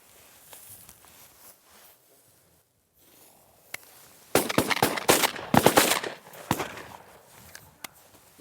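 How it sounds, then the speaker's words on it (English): Shotgun fire during a bird hunt in Arkansas, several sharp, loud reports in a quick irregular burst, with rustling and footsteps outdoors before and after. "Good shot, Drew."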